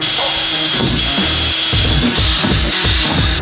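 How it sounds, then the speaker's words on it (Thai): Power drill boring holes through the metal body of a van being fitted with a window, heard as loud, steady grinding bursts with a rhythmic rising and falling whine close by, no talking. "เจาะรูรถอีกแล้ว"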